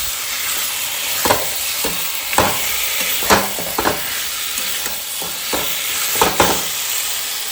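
Spice paste sizzles and fries steadily in a pan as sour yogurt goes in, a constant loud hiss broken by repeated scraping stirs and soft clinks, close with no talking.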